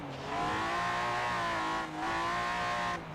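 Turbocharged drift-build car modelled on the BMW E46 in a racing video game, heard from the inside: a loud, sustained engine tone with a brief dip around two seconds before climbing again, no talk.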